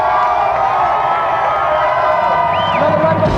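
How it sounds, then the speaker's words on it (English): A studio audience at a televised video-game show cheers and claps loudly, a dense continuous roar of whoops and applause throughout. "Another round of applause for David and Jason."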